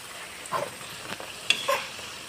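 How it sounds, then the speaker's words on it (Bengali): Chana dal being dry-fried on low heat, with a soft crackle and a few light stirring scrapes and clinks spread across a brief, quiet stretch. "অল্প আঁচে আমি এইভাবে ভেজে নেব"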